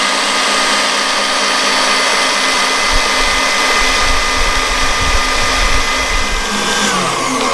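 An electric hand mixer whirs at high speed through cake batter made with sugar and cake emulsifier for a steamed chocolate mocha cake, giving a steady, loud, close motor drone that runs unbroken and alone.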